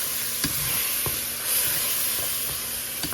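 Green chile hits leftover grease thickened with a little flour in a pot, giving a steady sizzle and hiss with faint scrapes and taps throughout and no voices.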